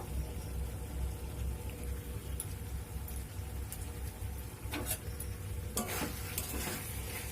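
Basanti pulao rice and a potato curry are stirred in a hot pan, a continuous sizzle with scraping stirs and a couple of louder clattering bursts toward the end.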